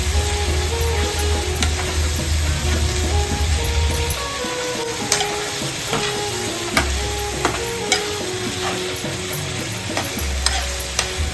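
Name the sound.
stirring oyster mixture with turmeric in a pan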